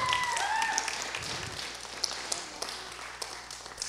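Audience applause at a live gaming show, a broad steady wash of clapping that thins out toward the end, with a few sharper claps standing out near the close.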